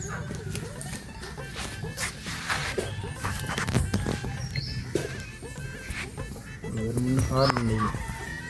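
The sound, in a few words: chickens clucking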